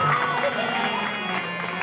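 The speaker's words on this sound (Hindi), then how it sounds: "एक बार ताली बजा दीजिए।" Audience at a Shri Ram Katha religious discourse in Delhi clapping together, a sustained wash of applause with a faint murmur of crowd voices beneath.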